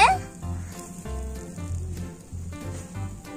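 An egg sizzles in a small toy-kitchen pan, a soft crackling hiss running steadily under faint background clatter and brief voice sounds.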